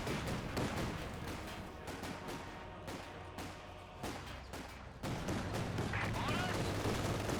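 Gunfire crackles in the Company of Heroes 2 strategy game, a dense, steady clatter of rapid shots and bursts with heavier thumps mixed in, running under a commentator's voice.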